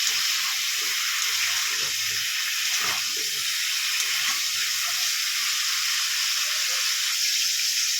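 Cauliflower florets fry in hot oil, giving a constant loud hiss and crackle that runs unbroken and close throughout, with no talking.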